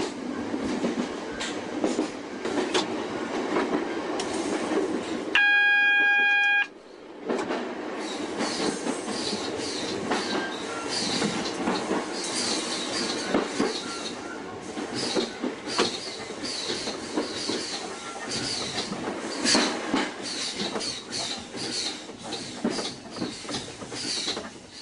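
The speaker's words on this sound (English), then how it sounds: "this group are driving a Class 466 networker" A Class 466 Networker electric train running on the Bromley North branch: continuous loud rail rumble with clickety-clack wheel beats and a brief high whine partway through, steady and close throughout.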